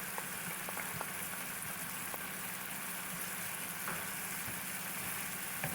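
Ginger garlic paste fries with chicken liver on a hot tawa, a steady soft sizzle and crackle with small pops throughout, no one speaking.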